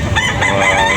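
A rooster at a chicken market crows once, loud and close, over a busy background.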